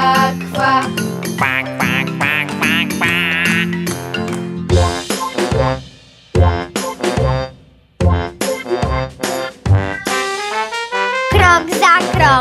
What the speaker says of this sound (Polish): kaczym krokiem krocząc kwaczą, kwa, kwa, kwa